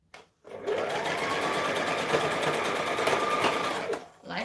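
A sewing machine runs steadily for several seconds, stitching scrunchie fabric with a continuous close whirring drone after a brief start, easing off near the end.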